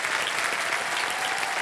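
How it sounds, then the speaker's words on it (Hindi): Studio audience applauding a winning contestant on the Indian TV quiz show Kaun Banega Crorepati, a steady, dense clapping that fills the room at full volume for the whole stretch, with no voices on top. "अरे भाई साहब, ताली बज जाए इनके लिए"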